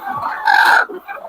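Laying hens in a crowded poultry shed cluck loudly and close by, several throaty calls in quick succession with one stronger squawk in the middle.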